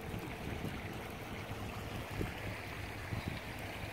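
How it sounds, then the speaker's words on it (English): Rainwater runs fast through a desert wash in Quartzsite, Arizona, after light rain, a faint, continuous rushing gurgle with small bubbling splashes and no voices. "Water's moving pretty fast."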